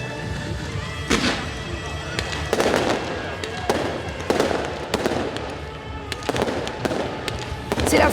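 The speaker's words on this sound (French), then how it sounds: "on va avoir droit à un petit peu d'artifice pour les 120 ans du club" Fireworks go off at a rugby stadium in Castres, marking the club's 120th anniversary, with repeated sharp bangs and crackling bursts at irregular intervals over steady crowd noise.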